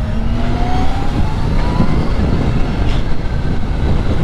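A Kawasaki ZH2 motorcycle fitted with a Villain muffler exhaust runs near the mic, a loud steady engine roar held high around 5,000 RPM.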